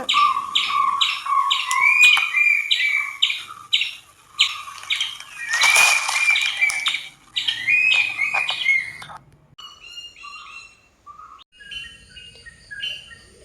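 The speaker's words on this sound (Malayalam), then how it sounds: "മഴയൊക്കെ പെയ്ത് കഴിഞ്ഞപ്പോൾ കിളികളുടെ സന്തോഷം കൊണ്ട് കിളികൾ ഭയങ്കര ശബ്ദ കോലാഹലങ്ങളാണ്" Many birds chirp and call noisily close by after rain in overlapping bursts, with a louder squawking flurry midway and sparser calls toward the end.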